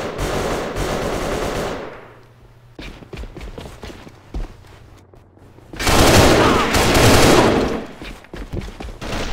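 Rifle gunfire in the video game AVA, with loud rapid bursts at the start and again near the end, separated by scattered single shots and quieter game sounds.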